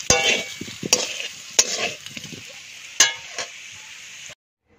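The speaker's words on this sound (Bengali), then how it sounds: "তো আমার আলুগুলো দেখতে পাচ্ছি লাল লাল হয়ে গেছে, ভাজা হয়ে গেছে লাল লাল করে" Potato pieces fry in a kadai of hot oil for homemade biryani fried rice, a bright sizzle under several sharp metal clinks and scrapes of a spatula against the pan, close and loud, then abrupt silence.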